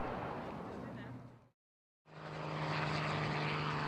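A helicopter herding wild burros out of the hills, its steady loud rotor and engine roar cutting out briefly and then returning strong and close.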